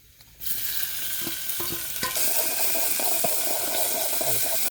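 Tomatoes and onion frying in hot oil, opening quiet before a loud, steady sizzle starts, with stirring clinks and a stronger surge of frying partway through.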